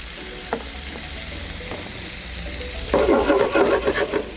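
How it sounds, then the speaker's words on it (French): Bacon lardons hit hot oil in a heated frying pan and burst into a loud, crackling sizzle after a quieter stretch with a few faint clicks. "Dans une poêle chauffée avec de l'huile, placez les lardons."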